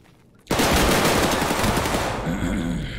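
Automatic gunfire in the shooter Escape from Tarkov: a sudden loud, sustained rapid burst starts after a brief quiet and keeps going to the end, close and dominant with no talking.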